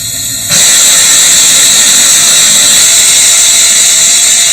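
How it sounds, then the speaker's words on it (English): Steam gushes from an opened SR valve on a nuclear reactor simulator, a sudden loud hiss that bursts in after a brief quieter moment and roars on steadily and close. "Open the valve, and steam gushes out."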